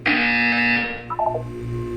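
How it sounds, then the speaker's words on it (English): A loud, harsh electronic buzzer from the Portal 2 video game blares for about a second, then gives way to short chirping blips and a lower lingering hum. "You will hear a buzzer."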